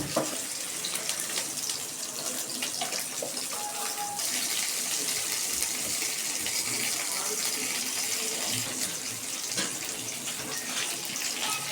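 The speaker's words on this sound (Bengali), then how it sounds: "জল দিয়ে দিচ্ছি" Water is poured into a pot of chicken stew vegetables, making a steady, continuous gushing splash that stays loud and even for the whole stretch.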